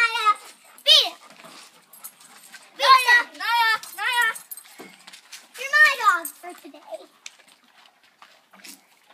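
Several dogs whimper and yip in short, high, excited bursts, loud and close, with children's voices around them during play with the grandkids.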